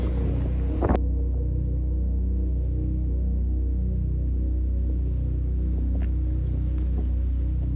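Strong, cold wind at the Oregon coast near Yaquina Head buffets the microphone as a constant low roar, with a sharp gust-like burst at the start.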